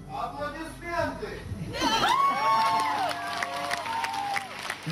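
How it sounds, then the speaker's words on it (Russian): A concert crowd applauds and cheers, with clapping and shouts rising together after a voice calls out over the noise. "Аплодисменты!"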